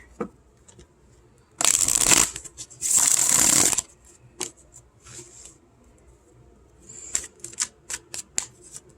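Two loud riffle shuffles of a deck of cards up close, followed by scattered taps and light clicks as the cards are squared and handled.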